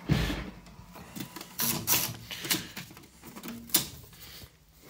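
An antique Burroughs adding machine prints a total as its handle is pulled, giving a rapid run of sharp mechanical clacks and ratchets up close with uneven loud strokes.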